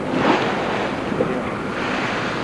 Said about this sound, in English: We just hit a few waves here, and they're sort of splashing up on us.